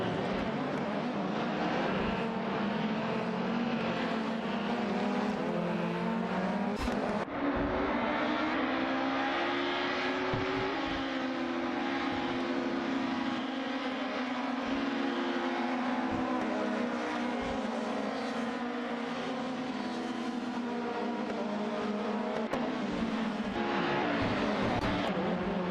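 Video game race cars start a race together, their engines making a continuous loud, dense roar that rises in pitch as they pull away, with a single sharp knock partway through.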